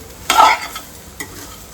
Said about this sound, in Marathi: पहिला आपण भेंडे व्यवस्थित भुजून घेऊ